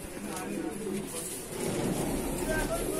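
Madrasi pigeons coo softly in a loft cage, a low, continuous murmuring beneath someone speaking close by.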